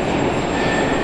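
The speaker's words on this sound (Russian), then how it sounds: "Город Москва, Московский метрополитен, станция метро Лермонтовский проспект." Moscow Metro train at Lermontovsky Prospekt station on the Tagansko-Krasnopresnenskaya line, a loud steady rumble of rolling carriages with a thin high whine, close and continuous with no voices.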